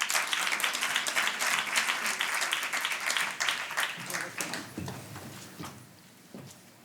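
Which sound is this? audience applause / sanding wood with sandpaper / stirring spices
audience applause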